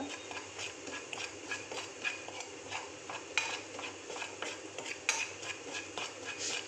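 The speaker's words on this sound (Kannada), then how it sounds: "ಹುರಿತಾ ಇದ್ದೀನಿ" Chicken pieces for pepper chicken frying over a low gas flame, stirred steadily with a utensil that scrapes and clinks against the pan above a constant soft sizzle.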